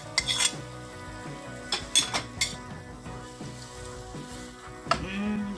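Chopped tomato and bell pepper tumble into a frying pan with onion for a creamy chicken fricassê, with a few scattered clinks of utensil on metal and a low simmering sizzle between them.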